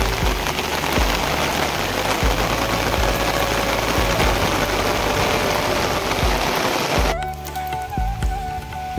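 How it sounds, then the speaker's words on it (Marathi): Light drizzling rain falling steadily on surfaces in a village setting, a constant near hiss of drops with a low engine-like hum underneath, easing near the end. "रिमझिम असा पाऊस पडतोय।"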